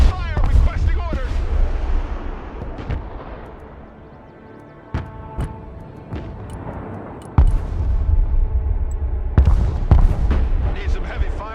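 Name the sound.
gunfire and artillery in video game Broken Arrow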